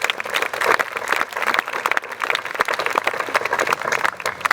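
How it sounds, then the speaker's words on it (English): A theater audience at a premiere of A Midsummer Night's Dream applauds in a steady, moderately loud wash of clapping that holds throughout. "A big round of applause"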